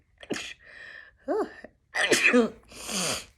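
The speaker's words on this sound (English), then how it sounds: "Now I'm sneezing." A person sneezes several times in quick succession, loud and close, with short sharp bursts separated by brief pauses and breathy intakes.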